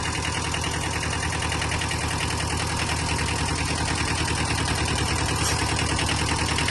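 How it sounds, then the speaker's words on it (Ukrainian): The engine of a Kubota B-10 Japanese mini tractor runs steadily at idle, an even, close mechanical chugging that never changes in pitch or level, with no one speaking. "Гарна робота двигуна."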